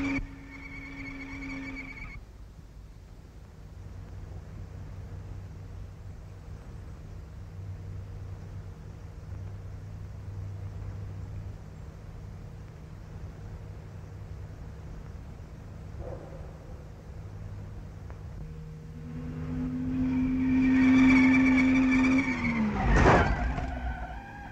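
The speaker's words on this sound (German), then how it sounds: "er gibt Gas, der Motor kommt auf Touren, wie ein Rennfahrer saust er die Kurve und schneidet sie" A car engine revs and speeds through a curve, building to a loud burst of tire skidding and squealing near the end after a stretch of steady, moderate engine drone.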